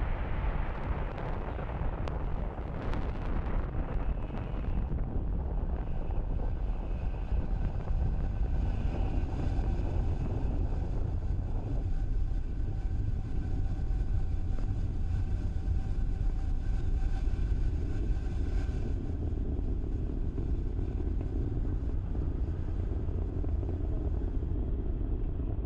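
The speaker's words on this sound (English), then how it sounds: "What you are seeing on your screen is Falcon 9 accelerating AST SpaceMobile's BlueWalker 3 and our Starlink satellites into space." A SpaceX Falcon 9 rocket carrying Starlink and BlueWalker 3 satellites lifts off and accelerates, giving a continuous, loud, broadband roar and rumble. Early crackling bursts settle into a steady, dense thunder that holds throughout.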